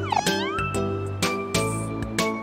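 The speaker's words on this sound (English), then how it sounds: "It's the cat in white space." Cat meowing in the video game Omori: a few clear, tonal meows and a drawn-out yowl ring out loud and close, with sharp clicks between the calls.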